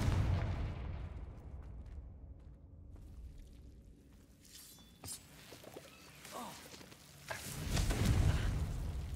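In Hogwarts Legacy, a Confringo fire spell bursts with a deep booming blast, followed by rumbling debris and crackling; a second heavier explosive burst comes near the end, moderately loud.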